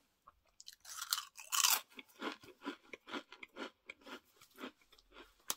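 Someone chews a crunchy snack close to the mic, with a series of loud, rhythmic crunching bites that soften into quieter chewing, no talking.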